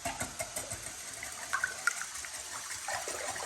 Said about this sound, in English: we're just gonna take a whisk and whisk this up